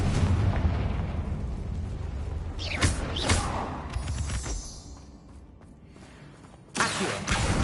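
Fiery Confringo spell blasts in the video game Hogwarts Legacy: a few booming bursts break out of a dense, rumbling game background, with one strong blast near the end.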